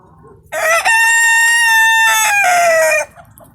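A Chinese Lukendanji rooster crows once, long and very loud at close range: a bright, strained call lasting about two and a half seconds that falls in pitch at the end, with faint background noise and no speech.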